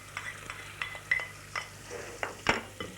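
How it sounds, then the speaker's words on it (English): Finely chopped onion sizzling in melted butter in a saucepan while stirred, soft scraping stirs and faint frying hiss close by, with no talk. "then just give it a little stir and let the onion begin to cook gently"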